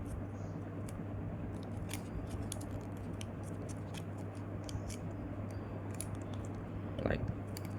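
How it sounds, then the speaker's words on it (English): Paper being folded into the landing gear of an origami jet, with soft crinkles and sharp crisp clicks close up over a steady low hum and a brief louder crease near the end. "fold this down"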